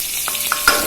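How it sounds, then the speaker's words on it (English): Four chopped green chilies hitting hot melted ghee, a loud close sizzle with short crackles and pops over a constant frying hiss. "now once the ghee has melted and heated, we are now going to add the green chilies to it"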